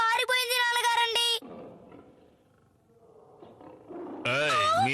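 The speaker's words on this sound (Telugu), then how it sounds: "పులులు అరుస్తున్నాయి, జాగ్రత్త." Cartoon tigers roar in a Stone Age setting, with loud, strained, wavering animal cries at the start and again at the end around a quieter stretch with faint murmuring.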